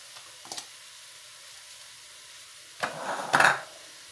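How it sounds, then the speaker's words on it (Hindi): Onions frying in a pan, heard as a faint hiss at first, then two short bursts of sizzling as they are stirred near the end, with no talking. "इनको भूनना है।"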